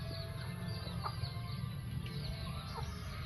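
Faint clucking from several chickens in the distance over a steady low background hum, with no talking.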